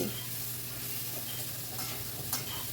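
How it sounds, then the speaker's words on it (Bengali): Bottle gourd and potato pieces fry in a pan with a steady, close sizzle that holds for the whole stretch, broken by a few faint scrapes of stirring. "লাউ আর আলুটাকে বেশ ভালো করে ফ্রাই করে নেবো"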